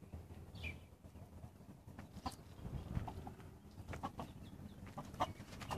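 Scattered short clucks from chickens in an outdoor farmyard, with other livestock calls and rustling background noise, no talking.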